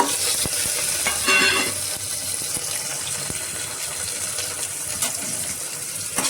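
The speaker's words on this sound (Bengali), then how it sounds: "এবারে আমি এখানে 4টে পেঁয়াজ কুচিয়ে নিয়েছি, পেঁয়াজটা দিয়ে দিচ্ছি।" Four chopped onions hitting a hot pan of cumin and frying with a steady, loud hiss that swells briefly in a bright gush, then settles into continuous close sizzling with a few faint clicks.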